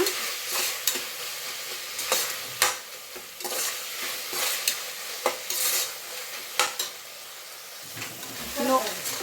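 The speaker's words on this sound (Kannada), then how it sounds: "ಈರುಳ್ಳಿ ಜೊತೆಗೆ ಟೊಮೆಟೊನು ಎಣ್ಣೆನಲ್ಲಿ ಈ ರೀತಿ ಫ್ರೈ ಮಾಡಿಬಿಡೋಣ." Onion and tomato fry in oil for a quick capsicum rice, a continuous sizzle broken by repeated scraping strokes of a spatula stirring the pan, close and fairly loud, with no talking.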